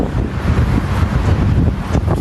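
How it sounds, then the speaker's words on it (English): Outdoors in Tokyo, wind buffets the microphone with a loud, continuous low rumble and gusty roar, with no voices over it. "Why is it so windy?"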